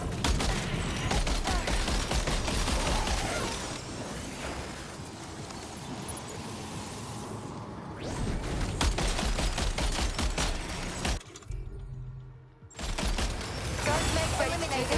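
Gunfire in the video game Death Stranding 2, rapid volleys crackling and rattling loudly through most of the stretch, broken by a brief quieter gap before the shooting resumes, with a voice speaking briefly among it.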